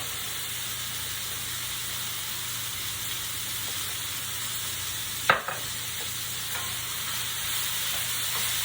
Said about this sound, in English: I'm just going to let this cook until it's sort of softened